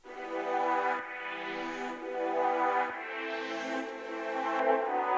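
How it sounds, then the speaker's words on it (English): A sustained cello tone run through a Logic Pro X Auto Filter preset, harmonics sweeping upward in slow repeating filter waves over about five seconds, played alone with no talk. "You take the auto filter of Logic, select the first preset and it sounds like this."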